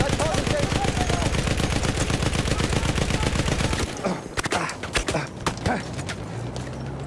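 Rapid machine gun fire from a Battlefield 1 multiplayer match, a loud, dense stream of shots for about four seconds that stops abruptly, followed by scattered single gunshots and distant battle noise.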